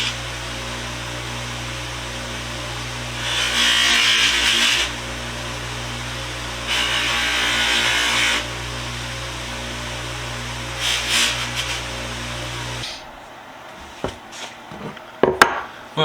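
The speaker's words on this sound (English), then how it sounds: "I guess I'll take it to the buffer." A bench buffer polishes a rusty ratchet wrench in loud bursts, with three main surges of grinding whine over a steady motor hum, followed by a quieter stretch of clinks and handling sounds near the end.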